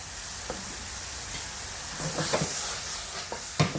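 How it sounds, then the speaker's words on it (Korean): Steady sizzling of bok choy and meat stir-frying in a hot pan, with occasional louder crackles and stirring scrapes over a constant hiss. "한 20초, 30초만 볶아주면 섞여지겠죠?"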